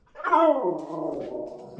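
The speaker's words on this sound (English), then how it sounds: "that's my dog telling me that she's hungry and it's almost dinner time" A pet dog whines and whimpers close by, a rising then drawn-out plaintive cry lasting under two seconds, heard alone in a garage where a 1JZ-swapped 240Z is being fitted with 280Z OEM hood vents.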